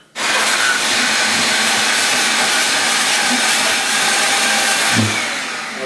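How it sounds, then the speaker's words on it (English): A large shop vac runs loud and steady, sucking up loose grout chips during a bathroom regrouting job, a continuous broadband roar with no talking. "I have a big shop vac, as you can see, and I can just take all the grout chips out and get ready to clean"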